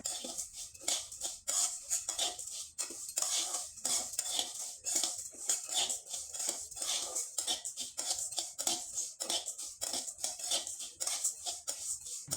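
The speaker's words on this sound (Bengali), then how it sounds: "আমি চালটা কিন্তু কড়াইয়ে দিয়ে দিলাম আর এভাবে কিন্তু অনবথ নেড়ে চেড়ে নিতে হবে" Rice is stirred in a wok over medium heat, dry-roasting without sand for puffed rice; quick rhythmic scraping strokes and grainy rattling clinks repeat steadily and close up.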